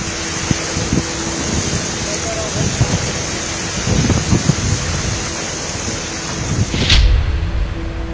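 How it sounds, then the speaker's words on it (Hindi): Heavy rain driven by strong wind lashes a street in Delhi, a loud, constant roar with gusty low rumbles and wind buffeting. "कहीं तेज हवाओं के साथ हुई बारिश बड़े बड़े पेड़ों को जड़ से उखाड़ दिया।"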